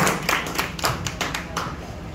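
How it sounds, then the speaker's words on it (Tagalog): A church congregation claps in unison for the Lord, about seven firm, evenly spaced claps over two seconds, close and fairly loud. "Isang malakas na palakpak para sa ating Lord"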